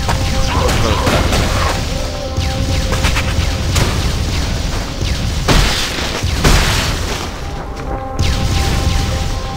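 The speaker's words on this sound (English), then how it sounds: "It's a bit funny they explode when I die." Enemies bursting in explosions during Torchlight 2 combat, a steady barrage of booms and crashing impacts layered over dense game music and effects, loud and continuous throughout.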